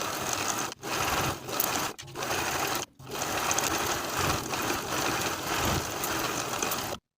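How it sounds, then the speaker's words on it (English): A sewing machine top stitching a hoodie with a quarter-inch seam allowance, running in fast close bursts with a few short pauses before stopping. "Now we'll top stitch with a 1/4 inch seam allowance."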